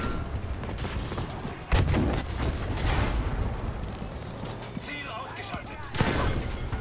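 Battlefield V war-game gunfire, dense and continuous fusillade with sharp louder shots near the start and end, mixed with battle noise and voices talking over it.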